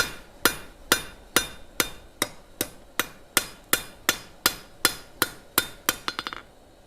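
Hammer blows forging bar stock down to thickness, about fifteen sharp, evenly spaced ringing strikes that speed into a quick flurry of lighter taps at the end, loud and close with no talk.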